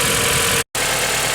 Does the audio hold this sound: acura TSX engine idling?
yes